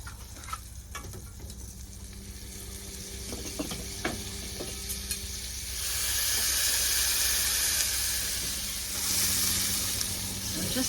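Lion's mane mushrooms fry in plenty of butter and a little olive oil in a pan, giving a steady sizzle broken by a few scraping taps, then swelling into a louder, hissing fry partway through.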